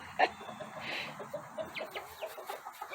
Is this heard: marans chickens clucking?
yes